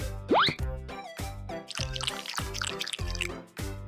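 Water drips and splashes in the Poppy Playtime Chapter 3 video game, with plopping sounds mixed into rhythmic, bouncy background music.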